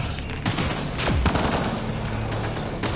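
Gunfire from enemies in Mass Effect: Andromeda on PS4, a dense, continuous crackle of sci-fi weapon shots with sweeping whooshes, loud and unbroken throughout.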